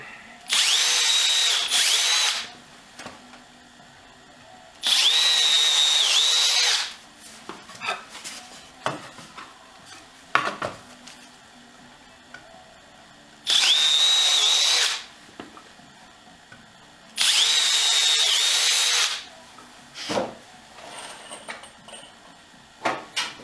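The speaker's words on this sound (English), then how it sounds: "drill a couple holes right down the center here" A power drill drills holes into wood in four separate bursts of about two seconds each, with quiet handling clicks and knocks between them.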